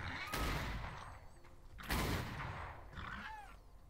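Several gunshots fire in the video game Atlas, with two heavy booming blasts about a second and a half apart followed by a softer report, set against a busy background.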